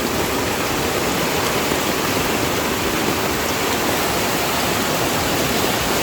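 Loud, continuous roar of rushing floodwater under heavy rain, a dense, even wash of water noise held at the same level throughout, close and uninterrupted, with no talk.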